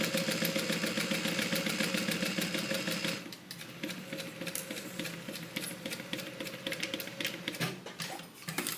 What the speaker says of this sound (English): And then we're just going to sew this with a 3/8 inch seam allowance.